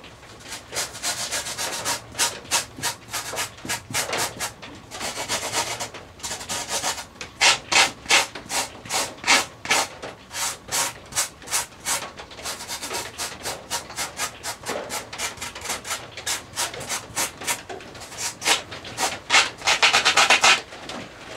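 Foam on an RC model airliner being hand-sanded, a long run of rhythmic scratchy back-and-forth rubbing strokes, close and fairly loud, with brief pauses between bursts.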